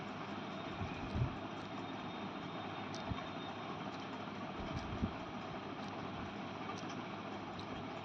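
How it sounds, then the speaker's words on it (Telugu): A small drone flies at a distance, its steady faint electric buzz humming evenly throughout with a few soft knocks and rustles near the operator. "నేను ఇక్కడే ఉండి డ్రోన్ని పంపించుకెడతా."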